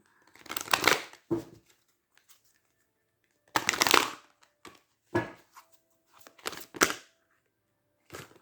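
Oracle cards are shuffled and drawn by hand in several short bursts of riffling, sliding and flicking card noise, close and separated by silences.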